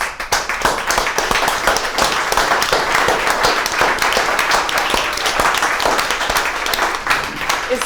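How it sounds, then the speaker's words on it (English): Steady, sustained applause from a large crowd, dense overlapping clapping filling the whole stretch without letting up. "Thank you for clapping."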